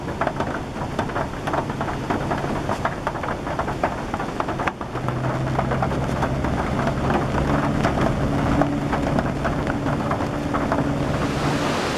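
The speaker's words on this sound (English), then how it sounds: "Now Katherine Creek's come up to a bit of a raging torrent." Katherine Creek in Fiordland runs high as a raging torrent after hours of heavy rain, giving a steady, dense roar of rushing water with rain noise mixed in, loud and continuous throughout.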